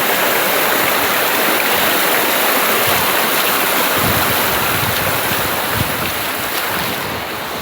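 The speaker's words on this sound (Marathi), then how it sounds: "फक्त ओढ्याचा आवाज आणि पाखरांचा आवाजच येतोय." A forest stream rushes along in a loud, continuous broadband wash, with churning water close by and no pauses or voices.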